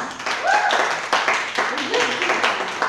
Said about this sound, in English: Another round of applause for Skylark.